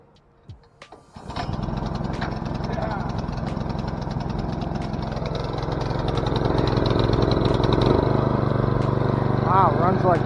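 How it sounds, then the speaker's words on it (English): A 2024 Troy-Bilt Super Bronco tiller engine is started with a brief cranking burst, then catches and runs at a steady, loud, even idle that builds slightly and holds for several seconds, with no voices over it. "this is the kill switch, and you have to turn it on for the engine to start"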